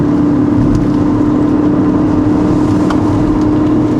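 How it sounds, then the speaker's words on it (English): A Proton Satria Neo CPS engine drones loud and steady as the car climbs a steep gradient, a constant low hum with road noise under it and no voices. "The engine loses steam a bit because of the steep gradient."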